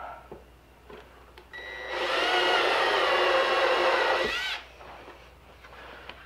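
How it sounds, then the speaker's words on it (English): A power drill driving screws into wood while assembling a wooden toboggan kit whirs steadily for about two and a half seconds, close and loud, then stops, with quieter workshop handling sounds before and after. "just pre-drill, then countersink, wood glue, and then put your screw in"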